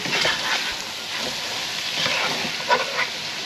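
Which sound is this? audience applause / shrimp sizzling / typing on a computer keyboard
shrimp sizzling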